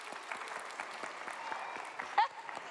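An audience claps steadily for Kira, a small performer at a Super Saturday show, the applause moderate and even with one brief sharper cheer near the end.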